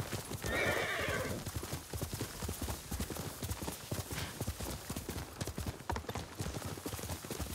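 In the video game Ghost of Tsushima, a horse's hooves clip-clop in a fast, steady gallop. A whinny rings out near the start, and the whole passage plays quietly, with no talk over it.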